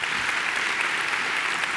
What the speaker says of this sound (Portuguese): E vamos dar para Jesus uma linda salva de palmas.